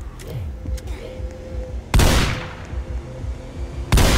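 Two loud, sharp gunshot blasts about two seconds apart ring out in the Roblox game Brookhaven during a zombie outbreak, each decaying into a short roar over steady game background noise.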